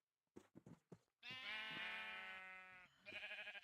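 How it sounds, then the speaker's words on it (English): Sheep in the Minecraft video game bleat, one long wavering bleat after a few short clicks and thumps, followed by another brief bleat, close and clear with no talking. "I don't really want to get the pink sheep."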